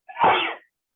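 One sharp human sneeze, close and fairly loud, bursts out and fades within about half a second, followed by silence.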